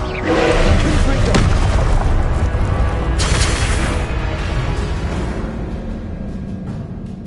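A Confringo fire spell in Hogwarts Legacy bursts into a loud booming explosion, a deep rumbling blast with a second impact partway through, trailing off into a long fading roar.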